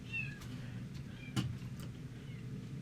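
A lost kitten in the train game Railroads Online gives a few soft meows over a steady low rumble of in-game ambience.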